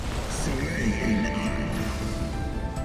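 A golden and black Chinese-style dragon horse neighs and whinnies in Final Fantasy XIV, a bright rising call over a busy game soundscape, with faint hoof clip-clops and a voice talking underneath.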